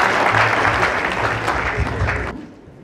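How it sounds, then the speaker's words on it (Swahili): Hearty applause from a gathered crowd welcomes Minister Tobiko at a Maa leaders' memorial gathering. It is a dense, continuous clatter of many hands that fades out near the end. "tupige makofi tumkaribishe waziri wetu Bwana Tobiko aendelee kutoka hapo"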